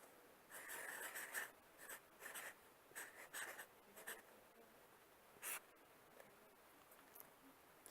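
Khmer numerals written by hand with a pen: quiet, close scratching strokes come in short bursts with brief pauses between them, over low room hiss.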